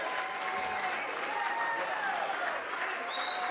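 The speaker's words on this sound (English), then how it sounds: "Let's give another round of applause while they walk out." Sustained applause from a live audience at a sports radio road show, dense and steady clapping filling the whole stretch at moderate volume with faint crowd murmur and a voice or two underneath.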